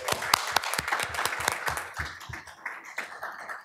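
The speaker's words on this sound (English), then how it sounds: "they definitely deserve a big round of applause" Scattered applause breaks out at a school board meeting, a modest number of separate claps, quite sharp and distinct at first, then thinning and softening after a couple of seconds into looser patters.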